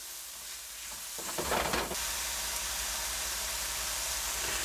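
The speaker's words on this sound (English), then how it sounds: "Starting to smell like fried rice already." Fried rice frying in a pan, a soft, steady sizzle with one brief louder burst of stirring and crackle near the start, fairly quiet and without talk.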